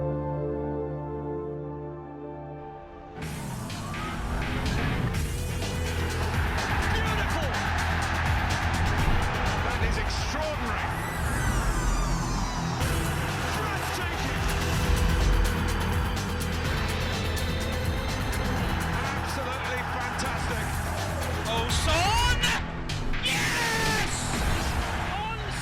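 F1 2020 race cars launching at the start of the Canada race, a field of engines screaming and revving together in a loud, continuous, layered roar after a brief quieter moment, with a voice talking over it.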